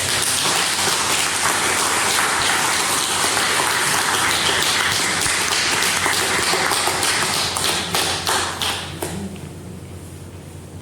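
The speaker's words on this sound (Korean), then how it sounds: "성경책을 받을 때 다시 한번 힘차게 환영의 박수 쳐주시기 바랍니다" A church congregation at a Sunday service claps steadily to welcome a member coming forward to receive a Bible, a dense continuous patter that thins and fades in the last few seconds.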